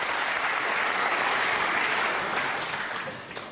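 Crowd applause at a UK Snooker Championship final in the Barbican, dense sustained clapping filling the hall, holding strong before fading slightly toward the end.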